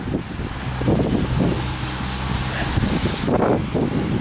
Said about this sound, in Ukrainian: Правду писали вечором, що буде сильний вітер